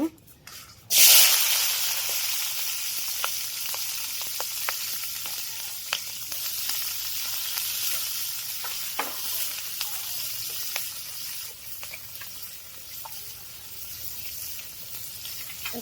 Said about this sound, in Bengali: এখন পেঁয়াজ কাঁচামরিচ দিয়ে দিব